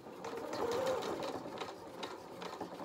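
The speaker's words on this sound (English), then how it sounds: "So I'm just going to pop that back into my sewing machine." Sewing machine taking a few tacking stitches across a fabric edge for a toy donkey head, a quick rhythmic mechanical whirring and clatter, close and clear with no talking.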